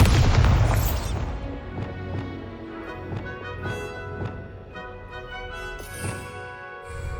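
A Bombarda blasting spell from the Hogwarts Legacy video game erupts in a loud boom at the start, then gives way to a string of sharper impacts and crackling bursts under ringing magical tones, with no one talking.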